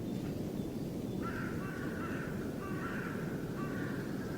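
Quiet in-game ambience from an MMO: a constant low wind rush fills the scene while a few faint, distant bird calls repeat in short bursts above it.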